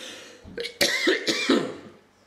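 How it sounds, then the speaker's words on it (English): A person coughs several times in quick succession, close and fairly loud, with a brief throat-clearing quality. "Cough, cough, coughy, cough, cough."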